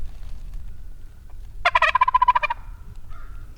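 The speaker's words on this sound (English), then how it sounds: "that bird just gobbled down in the saddle" A wild turkey gobbles once, a rapid rattling burst about a second long, from down in a saddle in Tennessee turkey woods during opening weekend of the season, moderately close and clear over quiet outdoor ambience.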